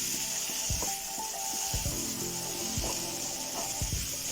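Chili powder and garam masala frying in oil in a pan, a continuous soft sizzle with repeated scraping strokes of a spoon at an even, steady pace, no one speaking.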